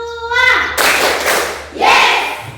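Children clap their hands in a counted classroom drill, sharp bursts of claps arriving in a steady rhythm, loud and close, with a teacher's voice counting through part of it.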